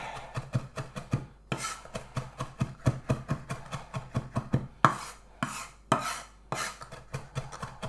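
Herbs chopped with a freshly sharpened knife on a board, quick rhythmic taps in steady runs broken by a few short pauses and scraping sweeps, close and clear.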